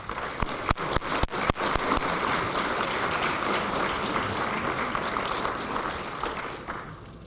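An audience applauds as a speaker is welcomed to the stage at a talk on zero point energy; sharp claps open the run, then a dense, steady wash of clapping continues before fading at the end.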